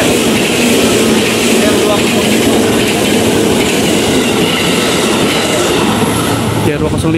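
A JR 205 series KRL commuter electric train of ten cars runs past near Kampung Bandan, a steady loud rolling roar of wheels on rail lasting throughout with faint rail clatter.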